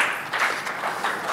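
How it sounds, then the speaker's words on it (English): Sparse, half-hearted applause from a small tech conference audience, a few scattered claps in a steady diffuse patter at moderate level, with no speech over it. "How about a round of applause?"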